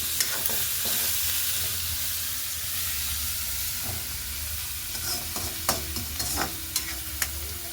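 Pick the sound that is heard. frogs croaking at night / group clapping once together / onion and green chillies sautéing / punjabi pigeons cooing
onion and green chillies sautéing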